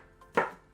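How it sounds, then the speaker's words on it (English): A knife strikes once against a chopping board while chopping peeled garlic, a single short, crisp knock in otherwise quiet surroundings. "I'm gonna finely chop them."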